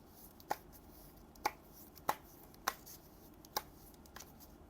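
Tarot cards handled and laid out one by one: five or six sharp, faint snaps of cards set down at regular intervals against a quiet background, no talking.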